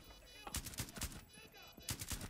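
Gunfire in the video game Rainbow Six Siege, a few short bursts of sharp, close shots with brief pauses between them, played at moderate volume and heard without speech.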